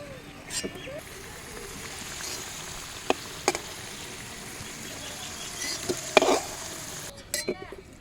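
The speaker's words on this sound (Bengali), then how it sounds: "এই যে আমার আলু ভাজা হয়ে গেছে" Potatoes frying in a pan over a clay stove, a soft continuous sizzle with occasional sharp clinks and scrapes of a utensil against the pan, and a voice speaking briefly.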